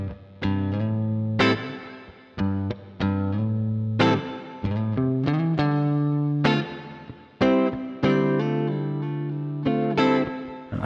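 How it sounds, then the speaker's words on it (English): An electric guitar plays through a Laney L5 Studio amp with an HX hall reverb effect, sounding loud, sustained chords and notes in a steady sequence, each ringing into a lush reverb tail with nobody talking. "here is a hall reverb off the HX effects with the same sound"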